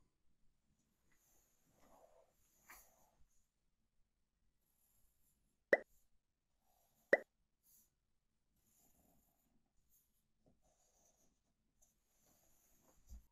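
Pen strokes drawing a small square on a sheet of paper: faint, scratchy scribbles in a very quiet room, broken by two sharp taps.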